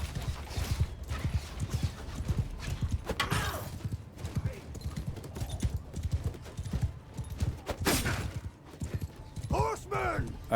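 Horses gallop across a battlefield in Mount & Blade II Bannerlord, a continuous rumbling clatter of many hooves at close range, with a whinny near the end and a voice talking over it.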